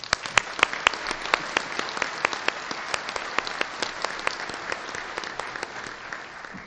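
An audience at a city luncheon address applauds its sponsors with sustained, dense clapping, many hands at once, steady and fairly loud for the whole stretch.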